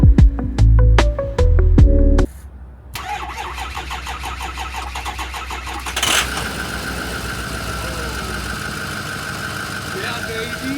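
An ex-government diesel 4x4 van cranks with loud, choppy bursts, then fires and settles into a steady, clattering diesel idle close by, with a voice briefly heard over the running engine.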